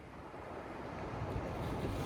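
Rough sea surf churns and rumbles in a steady roar off the Irish coast below Caherconree, mixed with wind buffeting the microphone and never letting up.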